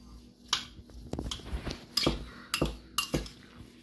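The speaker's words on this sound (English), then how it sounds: "We're just gonna mix these seasonings on in there." A spoon mixes salt, pepper, basil, oregano and parsley in a bowl, giving a series of light, irregular clinks and scrapes up close, quiet and alone.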